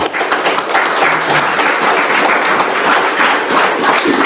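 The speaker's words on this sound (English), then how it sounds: "Let's give these guys a round of applause." An audience at a luxury real-estate development networking event applauds, a dense, steady wash of clapping that runs the whole time.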